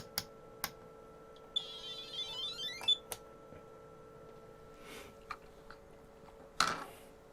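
Bench meters in a modular bench power system switching on, giving a few short electronic beeps and a brief warbling chirp, with faint clicks and a steady low hum under them.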